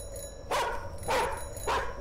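A dog barks three times at an even pace, each bark loud and close, with a low rumbling background between them.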